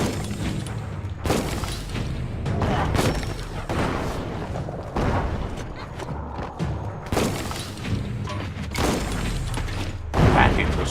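Bomb lobber explosions from the video game Biomutant boom repeatedly in heavy bursts, with thuds, shattering and clattering mechanisms amid loud game action and occasional voice.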